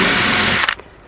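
A power drill countersinks screw holes in the side of a Märklin H0 model railway helix, running loud and steady for over half a second before cutting off abruptly with a brief rattle, no talking.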